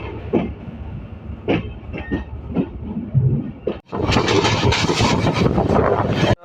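Mahanagar Provati train at a railway station, its loud rumbling, clattering rush building from scattered platform noise to a steady close roar as the carriages pass.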